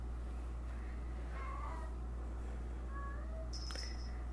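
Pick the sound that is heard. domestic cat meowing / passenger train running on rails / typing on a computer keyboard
domestic cat meowing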